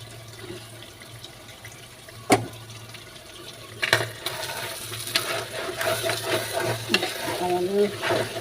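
Beef tripe frying in a pan, a steady sizzle that thickens as it is stirred, with a sharp knock and scraping strokes against the metal, and a faint low hum underneath.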